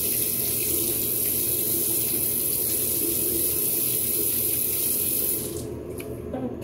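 Tap water runs steadily from a faucet into a sink as a purple item is rinsed under it, a continuous close hiss that cuts off near the end.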